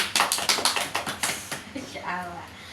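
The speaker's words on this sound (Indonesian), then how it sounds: "tepuk tangan untuk kita semua" A classroom group claps together in a quick, even burst of close applause that tapers off after about a second and a half, followed by a brief murmur of voices.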